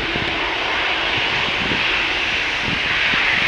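An EasyJet jet airliner takes off at Manchester Airport, a loud, sustained broadband roar of jet engines heard steadily throughout, without speech.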